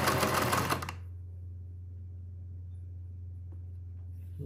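A 1950s Singer 403A sewing machine stitches in a short, fast burst at the start, then cuts to a steady low motor hum that runs quietly on its own for the rest of the clip.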